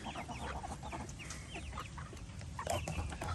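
Chickens cluck softly and irregularly around an Ayam Cemani rooster in a farm coop, with scattered faint calls over low background noise and no one speaking.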